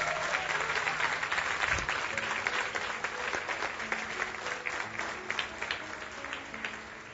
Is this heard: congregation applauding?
yes